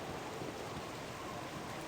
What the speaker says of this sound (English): Oh shit, it's raining and thunderstorm too.